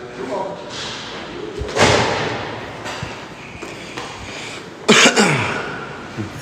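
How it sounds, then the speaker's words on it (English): A door is shut during a tense arrest scene, heard as a sharp close thud and slam among other bumps and knocks, with voices talking over much of it. "Do you want your door shut? I got it."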